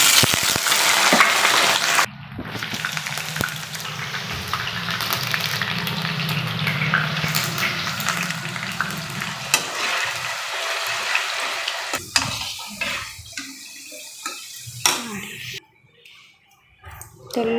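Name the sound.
potatoes frying in hot oil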